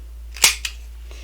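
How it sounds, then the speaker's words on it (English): A handheld hole punch snaps through layered paper for a craft board, giving one crisp close click followed by a fainter second click in an otherwise quiet room. "so I can glue it in here before I punch the holes"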